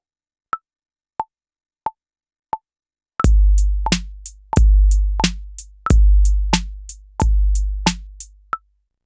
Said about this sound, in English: let's start with an 808 kit